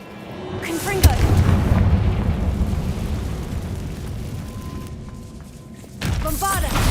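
A Confringo fire spell goes off in Hogwarts Legacy, a sharp booming impact followed by a long rumbling roar and then a second burst near the end, with a voice calling out over it.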